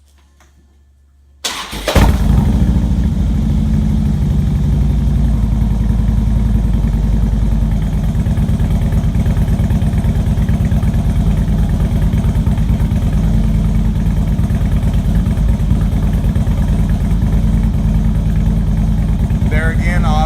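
A 2009 Harley-Davidson FLHT fitted with 4-inch Bassani slip-on exhausts starts up and then settles into a loud, steady, low-pitched idle rumble that runs unbroken and close by.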